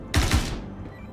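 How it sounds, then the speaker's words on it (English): A short close burst of gunfire in Star Citizen, two quick heavy shots followed by a fading tail, with no talk. "Just shooting."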